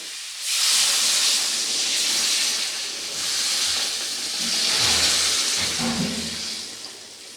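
Water is poured into a hot pan of spiced potatoes fried in oil, setting off a loud, sustained sizzling hiss with swells and dips. It is close and carries on for several seconds without any voices.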